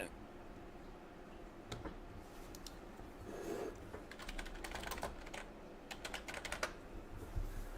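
Computer keyboard keys clatter in scattered quick bursts, faint and somewhat distant, with a voice speaking intermittently in the background.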